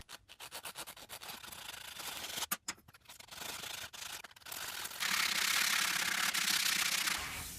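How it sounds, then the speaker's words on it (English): Mortised wooden dowel rods are sanded by hand to clean up rough edges, with uneven rubbing strokes at first and then a denser, steadier scraping rasp toward the end. "I'm going to do a little sanding to clean up the rough edges."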